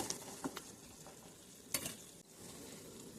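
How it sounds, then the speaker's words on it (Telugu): Boiled chicken being stirred into golden-brown frying onions, a faint low sizzle broken by a few scattered clinks and scrapes of the spoon. "చికెన్ కూడా వేసేసుకొని బాగా కలుపుకోవాలి"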